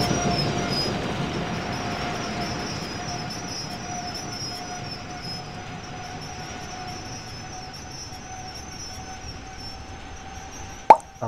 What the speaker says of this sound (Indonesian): keretanya belum berhenti juga, tapi sedikit melambat